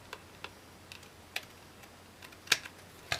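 Excess paper is trimmed off a folded A4 page in a quiet room, heard as sparse, sharp ticks and snips at irregular intervals, a couple of them crisper and louder near the end.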